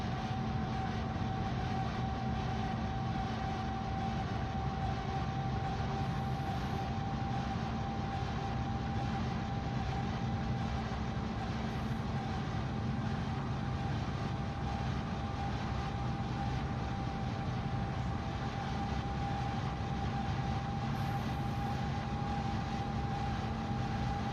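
A freight train with DPU locomotives pushing at notch 1 in the Run 8 train simulator game, a steady low diesel drone with a constant tonal hum, unbroken and even throughout.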